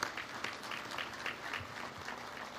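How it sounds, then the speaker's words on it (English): Applause at a ship commissioning ceremony for the USS Mobile (LCS 26), a continuous wash of many hands clapping, somewhat distant and moderately quiet, with no clear voices over it. "I want to give you a round of applause for what you do for us"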